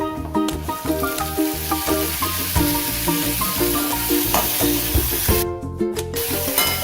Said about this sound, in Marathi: आता हा टॉमॅटो आणि कांदा हा व्यवस्थित परतून घ्यायचा आहे